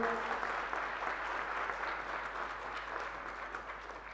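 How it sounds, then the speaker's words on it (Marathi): Sustained applause from an audience at the closing session of a Marathi literary conference, dense and steady for the whole stretch and gradually easing off slightly toward the end, with no one speaking over it. "संयोजन समितीच्या या दोन व्यक्तींसाठी जोरदार टाळ्या वाजवा मित्रांनो"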